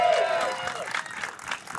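Live crowd at a wrestling show applauding and cheering steadily throughout, a broad continuous wash of clapping with little variation.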